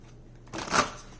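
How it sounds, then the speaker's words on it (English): A quick, soft riffle of tarot cards being shuffled, one brief burst lasting under a second in a quiet room. "One more shuffle."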